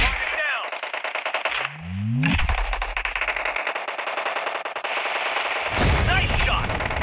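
Rapid automatic gunfire in the mobile game PUBG Mobile, loud and close, in sustained bursts with a brief pause, plus a rising electronic tone and a voice briefly heard.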